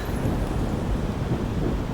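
Thunderstorm ambience in the video game Blade & Sorcery, a steady low rumbling roar with rain-like hiss, continuous and fairly loud for the whole stretch with no voices.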